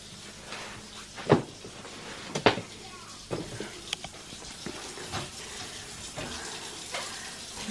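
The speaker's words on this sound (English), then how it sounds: "Look at him washing up" Tap water runs intermittently at a kitchen sink during washing up, with clinks and knocks of dishes and cupboard sounds; people talk nearby.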